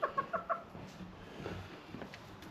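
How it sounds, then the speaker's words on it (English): Several sharp hen clucks in quick succession, then quieter scattered clucking and scratching noises nearby. "But we got a bunch of chickens in here"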